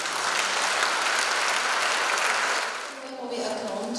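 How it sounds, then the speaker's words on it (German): An audience at a nursing symposium on dementia care applauds loudly and steadily. The clapping fades at the end as a voice starts to speak. "Applaus"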